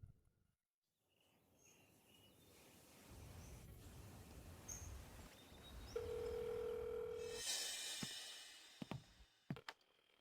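A steady electronic tone drones for a moment amid background noise, like a phone line left ringing out with nobody picking up.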